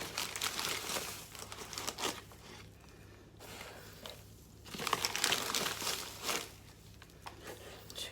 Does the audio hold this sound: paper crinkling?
yes